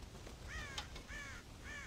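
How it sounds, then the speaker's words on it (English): Crows cawing in Red Dead Redemption, three harsh wavering calls in quick succession, moderately distant and fairly quiet against a low background. "God damn crows!"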